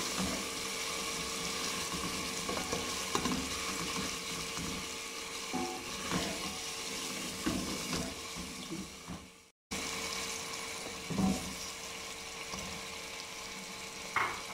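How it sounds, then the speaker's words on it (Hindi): Potatoes and chicken fry in plenty of oil for a potato chicken curry. A steady, fairly quiet sizzle carries on with occasional stirring clatter, and one brief cut to silence comes partway through. "थोड़ा सा भूनेंगे कुछ सेकंड, 1 मिनट के लिए या 30 सेकंड भून लेंगे आलू के भी।"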